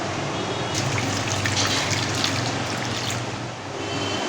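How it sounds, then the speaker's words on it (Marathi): Steady rushing water pours continuously for a few seconds into a pressure cooker of potatoes, a broad hissy splash with no voices. "बटाट्यामध्ये पाणी घालते मी"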